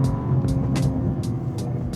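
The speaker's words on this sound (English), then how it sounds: "So as we come off the accelerator, the overrun." An Alpina B3 running on overrun after the driver comes off the accelerator gives a low engine drone inside the car, punctuated by a series of sharp, brief exhaust pops and bangs.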